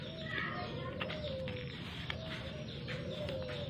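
Spotted dove (tekukur), a hand-fed young bird, gives a few soft coos over steady background noise, fairly close with no talking.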